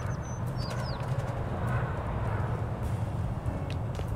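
A bird coos in the cat video game Little Kitty, Big City. Soft, low, pigeon-like coos repeat steadily over a continuous ambient background, with a few faint chirps early on.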